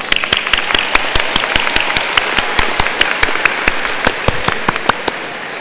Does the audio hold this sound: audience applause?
yes